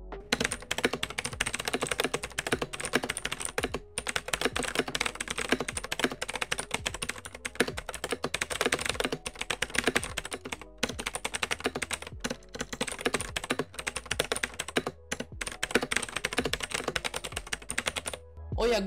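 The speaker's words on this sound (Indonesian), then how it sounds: "Dan berikut untuk hasil typing test dari keyboard ini." Steady, fast typing on a Digital Alliance Meca 8X Plus mechanical keyboard, dense clacky keystrokes running continuously with only brief pauses, close and clear with no talking.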